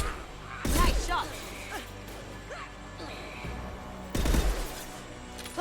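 Gunfire from the video game Mass Effect 2: two loud, broad bursts of shots about three and a half seconds apart, with quieter in-game effects and a voice talking in between.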